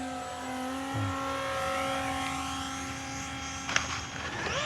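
A HobbyKing F35 70mm RC jet with a 3D-printed ducted fan upgrade gives a steady, fairly quiet high whine outdoors, holding a constant pitch with a small clatter near the end.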